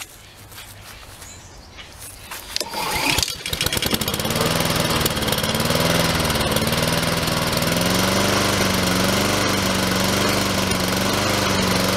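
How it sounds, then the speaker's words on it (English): A Harmony lawnmower with a grass bag is pulled over and catches after a couple of seconds of rustling and tugging, then settles into a loud, steady, close engine drone that continues without a break. "She also has a bag with this Harmony lawnmower as well, so let's give it a start here"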